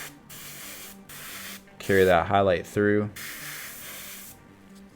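Spraying a highlight coat onto a miniature comes in short bursts of airbrush hiss between pauses, close by, with a person briefly speaking in the middle.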